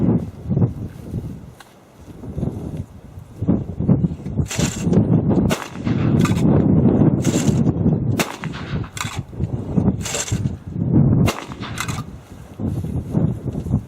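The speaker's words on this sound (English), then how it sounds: "we'll see how this old B80, which has been to Argentina and about everywhere else that I've shot forever, we'll see how it does with the same loads." An old Browning B80 autoloading shotgun fires repeated sharp blasts, each followed by the clack of shells being ejected, about a dozen irregularly spaced shots over a steady background, loud and close with no speech.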